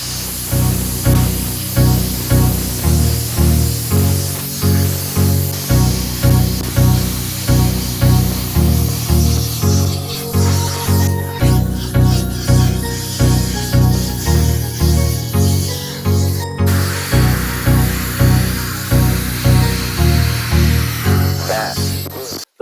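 Loud, continuous hissing of a spray gun over the rhythmic pulsing chug of an air compressor, spraying Subaru Impreza brake calipers, running steadily for the whole stretch.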